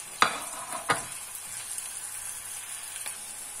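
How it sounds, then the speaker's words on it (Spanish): Garlic and onion fry in a pan for Córdoba-style tripe stew, giving a steady, fairly quiet sizzle broken by a few sharp utensil scrapes near the start and one more later. "Mientras se nos fríe el ajito y la cebolla"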